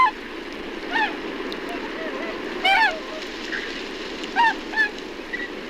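Wild Bewick's swans calling as they fly over in winter, bound for waters around London and Birmingham: several short bursts of honking, bugling calls, moderately distant, over a steady low background hiss.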